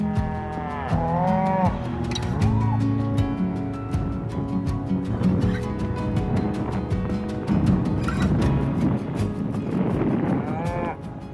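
A herd of cattle on a high-country drive moos repeatedly and loudly, several animals calling in overlapping, drawn-out lows near and far, with steady shuffling and movement beneath.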